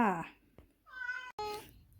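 A cat shut in a carrier meows several times in loud, close, drawn-out cries separated by brief pauses.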